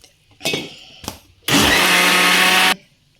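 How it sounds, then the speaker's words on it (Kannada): A mixer grinder grinding coconut chutney with garlic and water: two short pulses, then a loud, steady motor whir for about a second before it cuts off. "ಸ್ವಲ್ಪ ನೀರನ್ನು ಆ್ಯಡ್ ಮಾಡಿ ರುಬ್ಕೊತೀನಿ"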